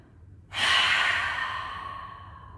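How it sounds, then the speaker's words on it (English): A long, steady exhale through the mouth while the nostrils are held closed during a yoga breathing exercise for anxiety relief, starting abruptly and fading slowly, close and clear in a quiet room. "holding the nostrils, breathing from the mouth"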